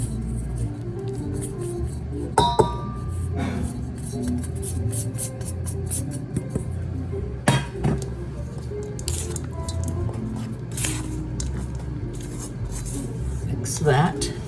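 Biscotti dough is stirred by hand as dry ingredients are folded into wet ones in a bowl, giving irregular squishy, scraping strokes with a few sharper knocks. It is close and moderately loud, with no talking.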